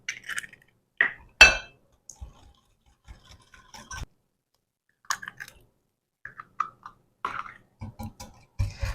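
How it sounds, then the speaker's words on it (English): Room-temperature eggs are cracked one at a time into a bowl for Nutella brownie pie, giving sharp shell taps and soft wet drops. Scattered clinks follow amid quiet pauses. "Next, grab your eggs, make sure they are room temperature, and we're going to crack these in one at a time."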